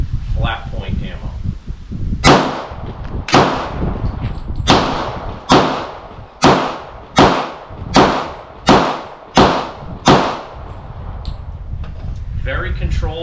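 A Smith & Wesson M&P 40 pistol fires PMC Bronze 165-grain flat point .40 S&W rounds, nine sharp, loud shots at a steady pace about a second apart, each ringing out briefly, over outdoor background noise.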